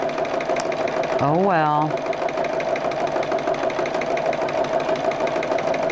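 A sewing machine stitches back and forth across a fabric bug bag, giving a steady, close, rapid mechanical hum throughout, with a brief spoken remark partway through.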